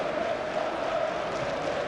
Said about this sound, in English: the Kettering crowd are desperate to get their team going.